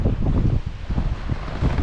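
Strong wind at sea buffeting a sailboat, roaring in gusty, uneven bursts right against the microphone.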